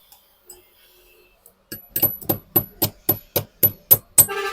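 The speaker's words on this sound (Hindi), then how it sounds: "इस गाइड पिन को ठोक देंगे।" A hammer drives a guide pin into the hydraulic distributor of an Eicher 380 tractor. After a few faint taps come about nine sharp, evenly spaced metallic strikes, close and loud, each ringing briefly.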